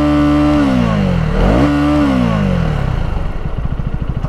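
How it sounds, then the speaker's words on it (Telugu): A 2024 Husqvarna Vitpilen 250 with a liquid-cooled four-valve 249 cc single-cylinder engine runs close and loud. Its exhaust rises in a quick rev, falls back, then settles into a lumpy, pulsing idle. "ఎగ్జాస్ట్ సౌండ్ వినండి."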